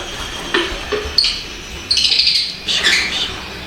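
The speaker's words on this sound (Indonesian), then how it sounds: "Nih kita di depan rumah aja udah disambut dengan koloni lovebird." A colony of lovebirds at a breeder's house chirps in short, bright bursts and busy overlapping tweets, fairly close and lively, with no talking.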